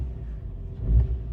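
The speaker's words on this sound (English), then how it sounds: "I'm gonna rev it up a couple times, give it some load to see if it any misfire reading." A Kia Sorento engine running rich at idle with code P2188 gives a low, steady rumble nearby that swells briefly in a short rev before settling.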